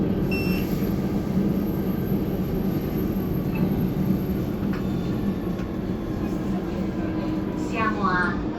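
Inside a moving driverless train on Milan's new Metro Line 4, a steady low rumble and rolling hum persist throughout, with a few faint beeps and a brief chime near the end.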